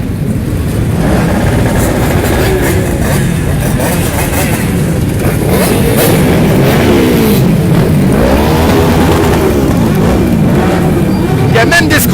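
Motorbikes revving and pulling away at the start of the Enduro du Touquet race on the beach, a steady dense engine roar throughout with rising and falling revs under a commentator's voice.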